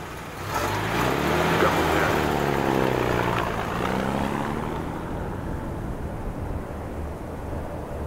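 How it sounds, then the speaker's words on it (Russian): A propeller airplane engine drones steadily on an airfield in the Ghost Recon Future Soldier video game, a loud continuous rumble with a slowly shifting pitch that swells early and then holds, with no speech over it. "Кажется, самолет готов взлететь."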